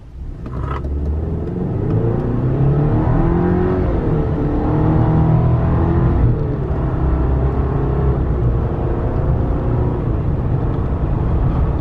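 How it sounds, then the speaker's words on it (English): A 2019 Chevrolet Silverado pickup with a 2.7-liter turbocharged four-cylinder engine and 8-speed transmission accelerates, its engine note droning and rising in a loud, steady, close rumble with no talking. "I'm gonna push this truck a little bit so that way you can hear the engine rev up."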